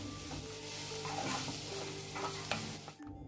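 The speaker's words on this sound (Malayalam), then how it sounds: "പിന്നെ ഇതിലേക്ക് 1/2 ടീസ്പൂൺ മുളക് പൊടിയും കൂടി ചേർത്തിട്ട് നല്ലതുപോലെ ഒന്ന് വഴറ്റിയെടുക്കണം" Green chillies, ginger and chilli powder sizzle steadily in a hot pan while a spoon stirs and scrapes, giving a close, continuous frying hiss with a few light clinks before the sound cuts off.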